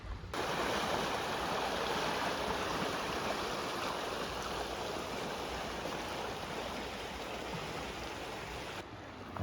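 Rock Creek in Twin Falls, Idaho, flowing as a steady, broad rush of water that stays even and moderately faint throughout, with no voices.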